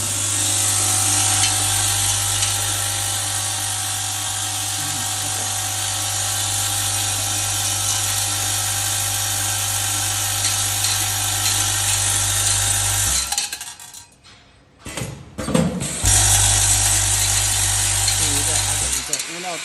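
A packing machine for glass lamp beads runs steadily with a dense, continuous mechanical whir and clatter, drops out briefly near the end, then resumes loud and close.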